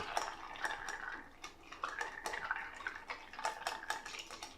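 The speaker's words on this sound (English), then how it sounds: "Give it a nice stir." Ice cubes clink and rattle against a glass as a martini is stirred, a quick, continuous metallic jingle of close, fairly quiet clicks with no talking.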